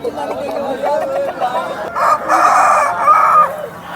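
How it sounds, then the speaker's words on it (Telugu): A rooster crows loudly and close at a rooster market, two drawn-out calls over a man's speech and background chatter of the crowd. "కోడిపుంజు అయితే చాలా యాక్టివ్గాను హెల్దీగా అయితే ఉంది"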